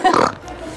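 People imitate pig grunting with their voices, a short burst of rough, throaty snorts up close that trails off after about a third of a second.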